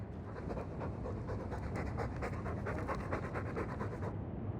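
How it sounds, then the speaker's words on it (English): Dog in a video game panting loudly and rapidly in a stuffy room, a steady, close, breathy rhythm that runs without a break for about four seconds and then stops. "All that noisy dog breath, day in, day out."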